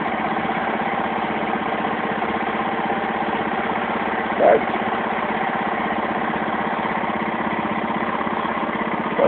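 A Yamaha XTZ250 motorcycle engine idles steadily with a low, even rumble, and a voice briefly speaks over it.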